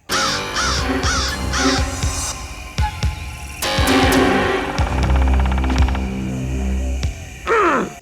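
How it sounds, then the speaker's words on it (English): Harsh crow-like bird calls in a film soundtrack repeat over a low droning hum, with sharp cracks and rustles in between, fairly loud. "Lots of bird sounds."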